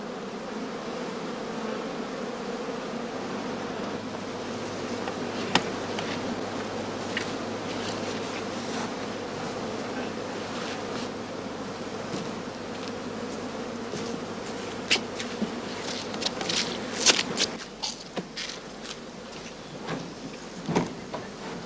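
Honey bees swarm around straw skeps during an autumn heather-honey harvest, a continuous insect drone with sharp buzzing passes flaring close by toward the end, no voices.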